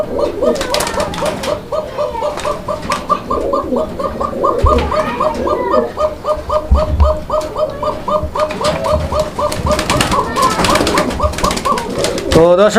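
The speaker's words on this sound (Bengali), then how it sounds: "এই একটা মাত্র জাতের কবুতর রয়েছে যেটা মূলত কবুতর কিন্তু কবুতরের মতো ডাকে না" Pigeons at a pigeon farm coo and call continuously in a dense, close chorus, with repeated rolling coos layered together and some background noise.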